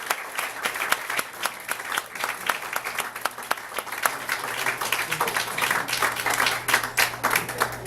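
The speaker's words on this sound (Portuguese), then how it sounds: "palmas para Márcio Postman e vamos escutá-lo" Audience applause welcoming Márcio Pochmann as speaker at a debate, a dense steady clapping with sharp individual claps standing out, sustained and fairly close throughout.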